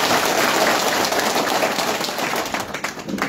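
Dense, continuous clapping from a crowd welcoming a guest at a BNP union-level political meeting in Raipur upazila, loud and steady throughout with no speech over it.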